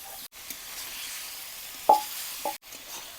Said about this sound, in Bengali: এখন মশলার সঙ্গে কিছুটা সময় ভেজে নিই।